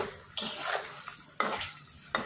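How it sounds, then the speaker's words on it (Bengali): A metal spatula scrapes and clatters in a karai of leftover luchi-frying oil as sliced pumpkin and vegetables are fried. Three sharp, close stirring strokes sound over a faint background. "কড়াইতে যে লুচি ভাজা তেল ছিল ওতেই আর কি ভাজাভুজি করছি"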